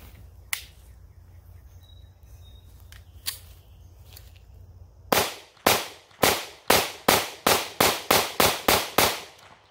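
Taurus GX4 9mm pistol firing steel case ammunition at a range: a few scattered faint clicks, then a rapid string of about ten loud, sharp shots with short echoing tails.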